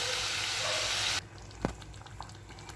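Tamarind water is poured into a pan of eggplant curry (ennai kathirikai kuzhambu), a steady splashing rush lasting about a second that stops abruptly, followed by near quiet and a single soft clink.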